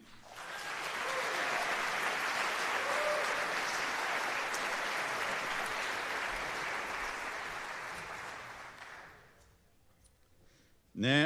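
Audience applause for band members at a band concert finale, a broad sustained wash of clapping that swells, holds for several seconds, then fades near the end.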